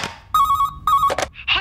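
A Panasonic cordless phone rings in two loud electronic trilling bursts, close by, followed by brief sounds of a person reacting.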